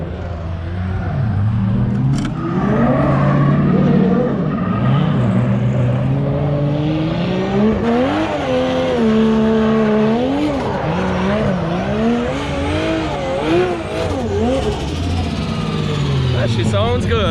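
A 2JZ-powered drift car revs hard and skids around a track, its engine note climbing and falling in repeated sweeps over a steady roar, with voices talking over it.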